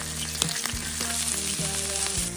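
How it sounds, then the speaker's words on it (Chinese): Pickled water spinach stems stir-fried in oil with minced garlic in a wok, a loud continuous sizzle close up, with the utensil scraping and clattering now and then. "把它炒一下，来点清油"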